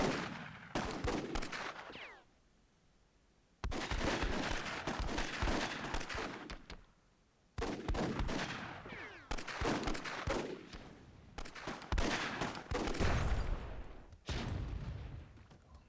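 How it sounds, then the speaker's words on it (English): Bursts of gunfire from a WWII mod of the strategy game Myth II: Soulblighter, loud repeated volleys and rattling fire in several blocks separated by brief quiet gaps, with no talking. "Ooh, nice gun work there from Judgmental Illness."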